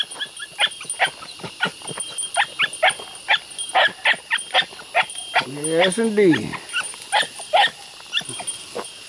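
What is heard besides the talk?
hound pup baying on a trail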